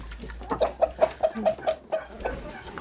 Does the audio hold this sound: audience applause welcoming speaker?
no